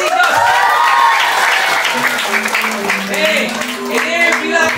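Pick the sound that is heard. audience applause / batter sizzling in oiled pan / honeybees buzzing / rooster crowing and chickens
audience applause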